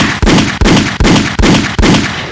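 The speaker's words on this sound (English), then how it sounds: "Let me get the gunshot." Loud gunshot sound effect played during a hip-hop podcast interview, firing five evenly spaced booming blasts in quick succession with no talk.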